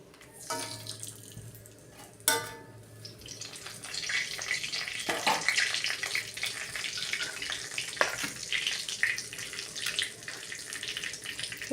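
Cinnamon, cardamom and other whole spices fry in hot oil in a pan for an egg curry, giving a steady, close crackling sizzle that builds and holds, with a couple of sharp clatters near the start. No one speaks.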